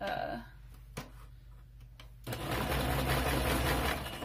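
A sewing machine stitches fabric for a Christmas junk journal: a quiet opening with a few faint ticks gives way to a loud, continuous mechanical whir of the needle running steadily.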